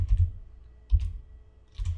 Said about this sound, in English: Let me type the domain controller name